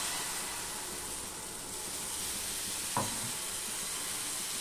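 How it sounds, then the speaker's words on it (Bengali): Batter hits a hot greased pan, producing a steady bright sizzle and hiss with one soft thump midway, close and continuous, no talking. "এবার যে ব্যাটারটা আমি গুলে রেখেছি সেটা আমি দিয়ে দিচ্ছি।"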